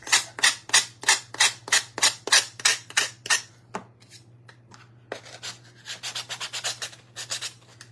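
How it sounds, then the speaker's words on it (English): A sanding block scrubs over a Mod Podge canvas in a quick run of even, close strokes that pause briefly, then resume in faster, lighter passes, with a steady low hum underneath. "Nothing a little bit of sanding can't fix."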